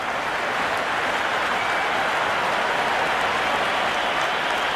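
A cricket stadium crowd during a Sri Lanka versus Ireland T20 match roars after an appeal, a broad, steady wash of cheering and clapping from the stands, dense and sustained without a break.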